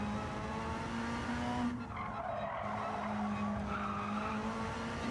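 In Gran Turismo 7, a Mitsubishi race car's tyres squeal in long, loud screeching skids over a steady engine drone, the squeal briefly breaking off midway before returning, with no voices.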